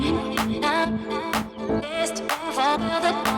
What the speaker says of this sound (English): So I just made a really quick beat so we can hear our new vocal loop in the context.